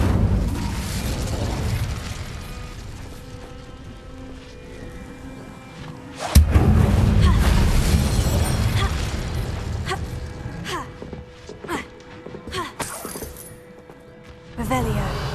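Incendio fire spell blasts from the Hogwarts Legacy game: a sudden heavy boom with a roaring burst midway, set against a dense, continuous game soundscape with sharp clicks and pops toward the end.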